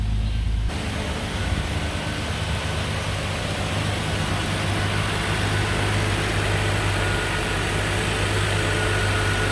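A 2003 Nissan Maxima engine idles with stock exhaust, a steady, loud low hum and rumble that holds constant from just after the start to the end, with no voices over it.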